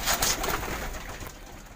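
Pet pigeons cooing softly at close range in a brief, low murmuring burst with no other sounds over it.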